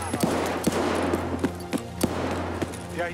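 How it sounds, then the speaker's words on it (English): Sharp gunshots crack out in an uneven burst during a tense video game firefight, about nine close reports over a low steady hum, with no talk. "he just took a shot at me"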